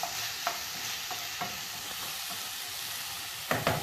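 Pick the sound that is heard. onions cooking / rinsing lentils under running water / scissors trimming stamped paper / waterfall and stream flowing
onions cooking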